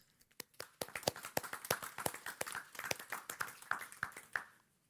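A small group claps at a library association general assembly, a sparse, quiet run of distinct hand claps that thickens slightly and then fades out.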